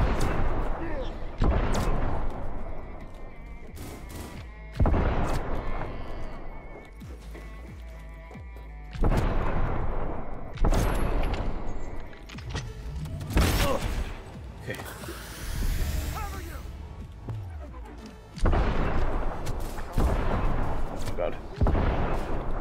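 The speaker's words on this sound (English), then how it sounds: "They're opening fire." Enemy gunfire erupting in Cyberpunk 2077 combat, with loud repeated bursts of shots and heavy impacts separated by short lulls, while a player talks over parts of it.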